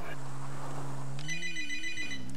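A phone rings in the GTA V video game, a short electronic trilling tone that comes in partway through, fairly quiet, over a steady low in-game hum.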